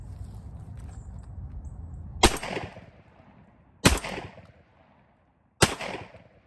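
Hatsan Escort Magnum 12 gauge semi-auto shotgun fired three times outdoors, each sharp loud blast followed by a short decaying echo, spaced about a second and a half apart.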